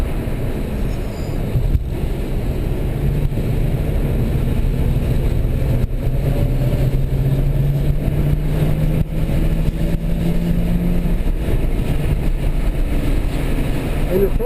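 Race cars run at full throttle around the Watkins Glen circuit, making a steady, continuous engine drone that holds for the whole stretch at a moderate distance, with a faint higher tone sliding upward partway through.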